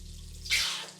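Tap water runs into a sink while a douche bulb is rinsed: a hum-like low tone gives way to a brief, bright splashing gush that fades quickly, close and fairly quiet, with no speech.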